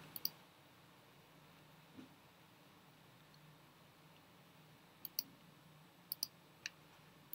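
Quiet, crisp mouse clicks sound while clips are split in iMovie: a pair at the start, then scattered single and double clicks toward the end over faint room hiss.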